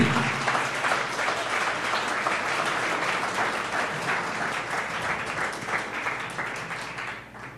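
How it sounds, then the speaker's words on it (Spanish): A church congregation breaks into strong, sustained applause, thick clapping that holds steady and then tapers off at the very end. "Dáselo bien fuerte si le vas a aplaudir."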